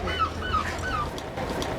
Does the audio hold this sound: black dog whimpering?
yes